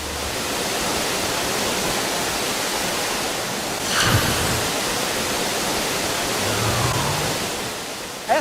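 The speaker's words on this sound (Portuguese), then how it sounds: "nossos repórteres dão de cara com uma das mais belas cachoeiras do Cerrado" Santa Bárbara waterfall in the Cerrado roars as a dense, constant rush of falling water, loud and steady throughout with a brief knock partway through.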